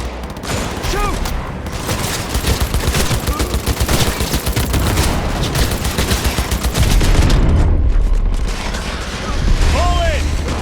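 Sustained gunfire in the Cyberpunk 2077 final mission, dense rapid automatic bursts that run loud and continuous for the whole stretch, with heavier booming swells and shouted voices mixed in.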